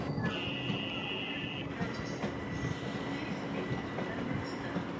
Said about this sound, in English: There's another 10 car train coming here.